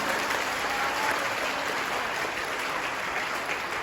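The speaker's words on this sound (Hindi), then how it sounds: "ऐसे पूज्य सतगुरु भगवान के जोर से ताली बजाइए" A gathered crowd at a devotional event honoring a guru applauds steadily, a dense wash of clapping that holds at moderate level for the full stretch, without speech on top.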